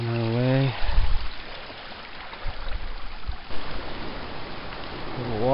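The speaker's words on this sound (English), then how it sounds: "Lots of little moss-covered brooks, like this one on our way." A small moss-covered brook on a coastal hiking trail trickles with a steady, close wash of running water, with a voice talking over it at the start and end.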